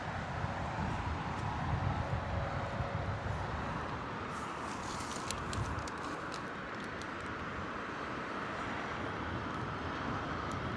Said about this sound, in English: beautiful Delta A330 taxiing out